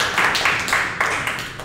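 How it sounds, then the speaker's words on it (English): Applause from the audience at a Shotokan karate livestream for competitors headed to the U.S. Open, a modest round of clapping with bursts coming in uneven waves, moderately loud and slowly fading. "So give them a big round of applause."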